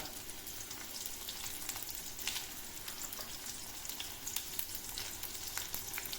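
Chillies fry in hot oil for a chutney, a soft, continuous crackling sizzle with faint pops throughout.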